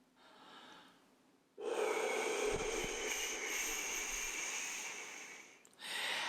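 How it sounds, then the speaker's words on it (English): Long, loud whooshing exhale through an open mouth with the tongue behind the teeth, as in 4-7-8 breathing. A steady breathy rush lasts about four seconds after a softer breath, then a new breath begins. "so you're making a whooshing sound as you exhale."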